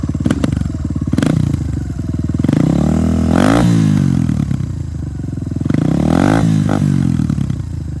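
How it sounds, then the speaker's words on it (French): A loud motorcycle engine idles with a throbbing rattle, then revs up sharply twice, each rev rising and falling back close by. "Elle pète vraiment de fou, cette moto."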